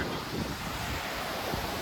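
The flooded Beas river rushes fast, a constant loud broadband roar of churning water with no voices over it.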